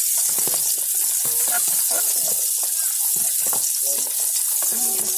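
Garlic frying in a pan, a loud dense sizzle and hiss with frequent scraping and clattering stirring strokes throughout, close, with faint traces of voice under it.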